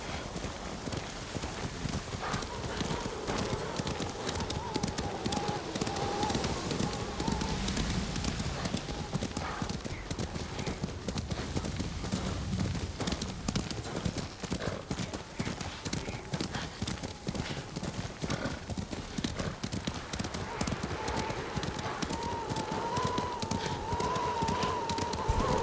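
Horse hooves gallop in a steady, rapid clip-clop throughout a ride in the video game Ghost of Tsushima, with wind and ambient noise underneath and voices speaking occasionally.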